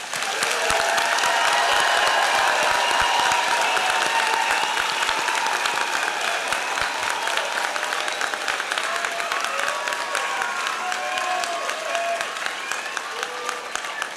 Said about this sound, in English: One last time, a big round of applause for our graduates.